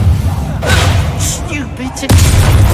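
A Bombardment spell in the Hogwarts Legacy game lands as a deep booming blast with a sharp crack near the end. Shouted game voices and combat effects run over the top, fairly loud and close.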